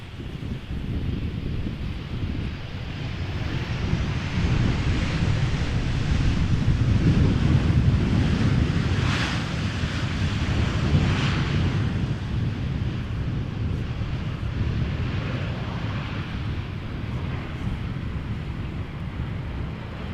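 A Transavia airliner touches down at Amsterdam Schiphol in strong wind, its engines a steady broad roar buried under heavy gusting wind noise that buffets the microphone throughout.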